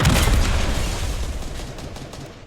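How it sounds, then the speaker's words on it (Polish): Explosions and gunfire in a shooter video game, a loud burst of booming blasts and rapid shots at the start that fades away over a couple of seconds. "Jak widzicie, cały czas wybuchy jakieś."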